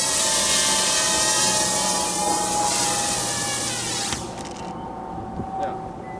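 A Cobra WiFi FPV drone comes in to land, its high-pitched propeller whine loud and close before it dips and cuts out near the end, leaving faint handling noise.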